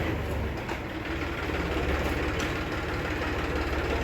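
A tractor engine on a farm rumbles and idles continuously at moderate distance, low and droning with no speech.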